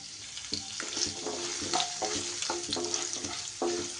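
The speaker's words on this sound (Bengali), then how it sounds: "এবার সব কিছু একটু এইভাবে আস্তে আস্তে ভাজা ভাজা করে নিতে হবে।" Cucumber tiffin ingredients fry with chopped ginger in a pan, a continuous close sizzle broken by regular stirring scrapes roughly every half second.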